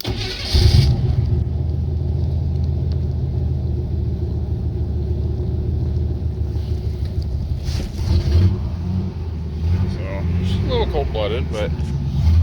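A 1976 Chevy C30 truck's old carbureted engine cranks and catches, then settles into a loud, steady rumbling idle close by, with a few revs near the end and a voice talking over it.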